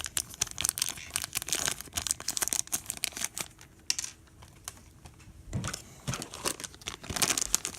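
Plastic wrapping around Gundam G Frame Volume 4 model pieces crinkles and rustles close up in quick, dense bursts, pausing briefly midway before more crackling.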